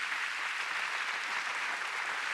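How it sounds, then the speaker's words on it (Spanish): A church congregation gives a strong round of applause during a Spanish-language service, dense and even clapping that holds steady throughout, somewhat distant and softened, with no voices on top. "Dale este fuerte aplauso al Rey de Reyes y Señor de Señores."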